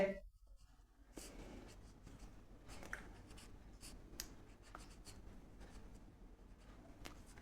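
Pen writing out a math factorization, a quiet scratching and tapping of strokes on paper in short irregular bursts, soft and close with no speech.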